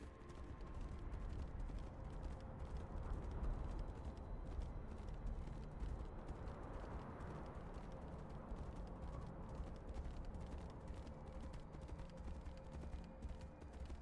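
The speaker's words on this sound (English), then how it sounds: "Galloping a horse along the side of a mountain like this just seems like a death trap, really." A horse gallops along a mountainside in the video game Tainted Grail: Fall of Avalon, its steady clip-clop hoofbeats running the whole time under dense low rumbling ambience, with no talk.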